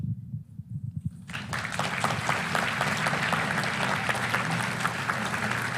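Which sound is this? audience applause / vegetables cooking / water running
audience applause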